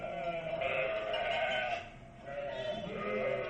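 Sheep bleat for a radio Christmas program, two long wavering bleats with a short dip between, moderately close and clear with no other sound over them; the cries may be a human voice imitating sheep.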